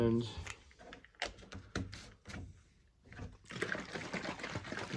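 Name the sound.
water being poured down a drain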